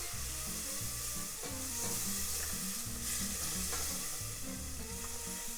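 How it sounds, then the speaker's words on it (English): Condensed milk being whisked into cooked flour in a pan for a crawfish mac and cheese sauce, a steady wet hiss and stirring noise close by, under a rhythmic, repeating low tonal background. "Keep whisking that and just stirring that all together."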